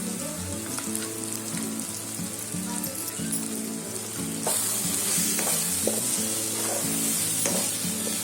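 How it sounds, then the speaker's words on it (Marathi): Ground spices such as coriander powder and amchur fry in a pan for a paneer rice dish, a continuous dense sizzle with crackling pops that grows brighter and louder partway through, no voices. "हे मसाले आहे ना सगळे आता फ्राय करून घ्यायचे चांगले."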